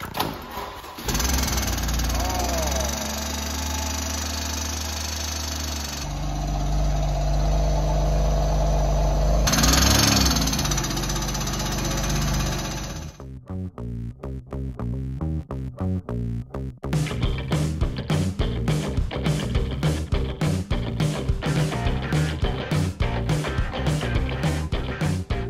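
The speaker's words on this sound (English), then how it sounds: "Let's see how your engine is knocking." A flood-damaged BMW M4 engine roars loudly and unevenly for several seconds, then settles into a rapid, rhythmic knocking idle that gets louder later on, heard close with no voices over it.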